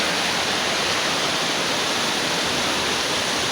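A strong-flowing river at Malasila rushes in a steady, dense roar, close and loud, with no voices over it.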